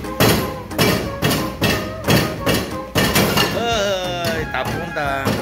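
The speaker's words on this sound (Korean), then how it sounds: "동태 하나 자를 힘이 없어가지고 고무망치로 두드리고 있습니다" A rubber mallet pounds a rock-hard frozen pollack in a kitchen, about eight heavy, evenly spaced thuds in a row, close and loud, followed by a stretch of voices and music-like tones.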